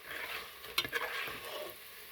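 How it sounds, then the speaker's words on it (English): Breaded dandelion blossoms crackle and sizzle in hot grease, a soft steady frying hiss with a few brief louder pops and stirring clinks near the middle. "That's what they look like when they're frying."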